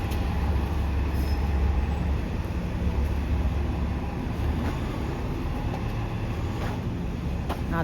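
Bus pulling into Spadina station in Toronto, a steady low rumble of engine and traffic noise throughout, with a faint high whine and occasional clanks, fairly close and continuous.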